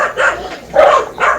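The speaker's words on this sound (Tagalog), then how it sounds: "Ingay, aso." A dog barks three times in quick succession, close and fairly loud, each short bark slightly yelping, with no talk over it.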